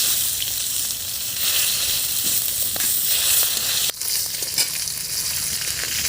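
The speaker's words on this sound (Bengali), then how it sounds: "মাথা দুটো ভালো করে ভেজে নিয়েছি" Two fish heads frying in hot oil give a loud, continuous sizzle and hiss, broken by a sharp crackle or stir partway through, with no talking.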